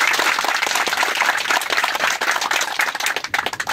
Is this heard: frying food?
no